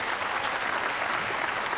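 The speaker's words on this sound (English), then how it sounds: "And Strickland can still applaud" An arena crowd applauds a shot during a World 9-Ball Championship pool quarterfinal, a dense, even wash of clapping hands that holds steady and close throughout.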